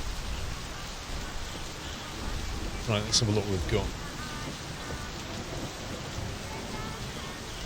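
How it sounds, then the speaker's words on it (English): Steady rain hisses throughout with low thunder rumbling in the video game My Summer Car, and someone speaks briefly in the middle over the downpour. "It's just been almost constant rain."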